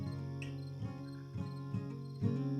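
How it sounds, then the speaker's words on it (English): Crickets chirp as a played sound effect, a steady layered chorus of pulsing insect trills with a few louder bursts, heard alone. "bring the crickets back."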